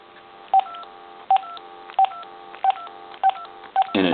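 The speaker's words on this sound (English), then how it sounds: "Never breaks dial tone." An AT&T cordless telephone with a fault that keeps its dial tone on, sounding a steady tone broken by six evenly spaced keypad beeps, ending in a short burst of noise.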